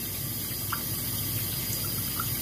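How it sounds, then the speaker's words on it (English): Kitchen tap water runs steadily over shrimp being rinsed in the sink, a continuous close hiss and gush with faint splashes, no voices. "I also run it under the water because it'll wash away a lot of the"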